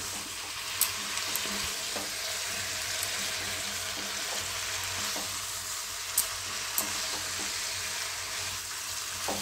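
Spiced broccoli curry sautéing in a pan gives a continuous close sizzle, with intermittent spatula scrapes and a few sharp clicks against the pan.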